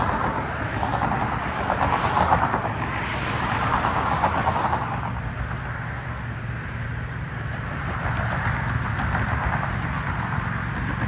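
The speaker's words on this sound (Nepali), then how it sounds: "त्यो परको चाहिँ Dubai metro green line metro line हो" Traffic and a passing train drone on along a Dubai street beside the Green Line Metro, a steady moderately distant rumble that swells and fades over about eleven seconds.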